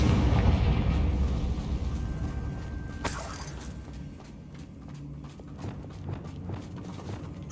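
A Confringo blasting spell explodes in Hogwarts Legacy, a loud burst with a crackling tail that fades over a rumbling, hoof-like background of game ambience, with no talking.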